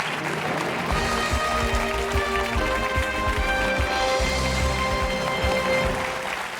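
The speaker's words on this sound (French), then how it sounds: "Et des applaudissements du public." Studio audience applause on a French TV quiz show, a steady dense clapping wash under tonal music, continuous and fairly loud throughout with no speech.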